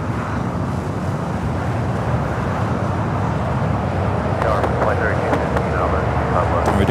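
Jet airliner taking off at Los Angeles International Airport, a steady broad roar holding at a constant loud level through the whole stretch, with no clear rise or fade and faint higher whistling tones near the end.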